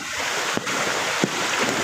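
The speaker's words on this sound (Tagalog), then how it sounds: "Yung agos ng tubig." Strong floodwater rushes across a road during Typhoon Carina, a constant loud broadband roar like surf, with a couple of brief splashes or bumps standing out.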